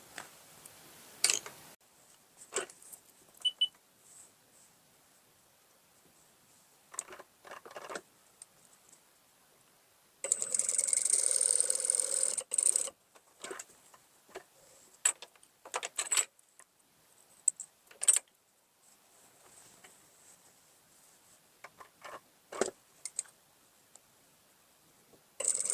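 Short bursts of rapid mechanical stitching from a sewing machine set to long stitch length for gathering a blouse waistline, separated by quiet pauses, with one longer steady run in the middle.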